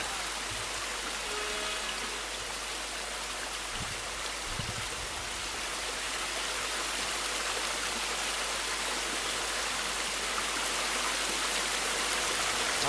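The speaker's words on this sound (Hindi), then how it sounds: "नदी का प्रवाह बड़ी शीघ्रता से उमड़ा जा रहा है।" A river surges past in a fast, rapid flow, its steady broadband rush of water unbroken and fairly loud throughout, with a couple of faint low thumps early on.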